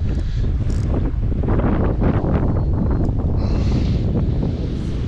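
Strong wind roars across the microphone during kayak fishing in a remote Coromandel bay, a loud, continuous buffeting rumble with gusts and water splashing underneath.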